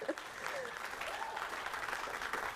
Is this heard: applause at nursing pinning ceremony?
yes